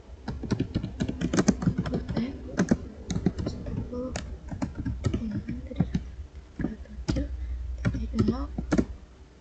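Someone types a command into a PC's command prompt on a computer keyboard, producing rapid, irregular clusters of close clicking keystrokes with brief pauses between bursts.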